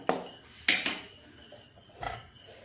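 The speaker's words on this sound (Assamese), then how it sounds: "এতিয়া গেছত এটা কেৰাহী পাতি দিম" A metal wok set down on a gas stove, with a few close clanks and scrapes of metal on metal, quiet in between.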